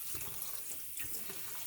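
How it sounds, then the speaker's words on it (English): Cold tap water runs steadily into a kitchen sink as asparagus is rinsed, a soft continuous splashing wash with no talking. "wash this one with the cold water"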